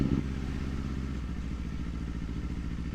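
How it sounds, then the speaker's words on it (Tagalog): A Kawasaki Ninja 500 motorcycle hums along steadily at low, moderate revs on a relaxed ride with early short upshifts, the engine drone close and constant over a few seconds. "So usually kapag mga ganitong chill ride, short shift ko lang tong motor na to."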